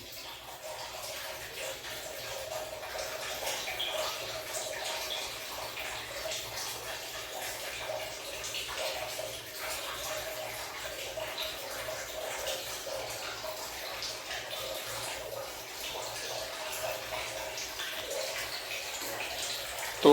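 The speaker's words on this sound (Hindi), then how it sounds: "ये वेस्टेज वाला पानी गिरना चालू हो गया है, अभी इसमें से पानी आएगा कुछ देर में।" Waste water from a homemade RO water purifier with RO, UV, UF and mineral stages flows and splashes steadily in a bathroom, a continuous moderate trickling that builds slightly over about twenty seconds.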